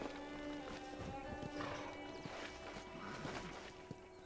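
Horse hooves clip-clopping in the video game Red Dead Redemption, a quiet run of irregular hoof knocks over a soft background hum.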